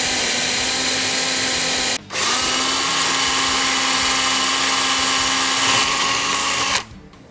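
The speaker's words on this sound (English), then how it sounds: "I'm going to drill 2 holes, one at the top, one at the bottom" A power drill bores rivet holes through the tunnel of a Ski-Doo Summit Rev XP snowmobile chassis, whining steadily and loudly in two long runs with a brief pause between them.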